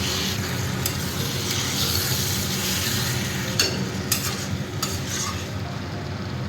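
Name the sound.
stirring and frying mushrooms in a pan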